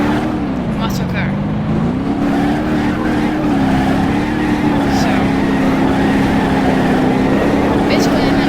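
A rear-wheel-drive 1970s classic muscle car engine in BeamNG Drive hums at a steady, slightly wavering idle-to-cruise pitch, loud and close, while someone talks over it throughout.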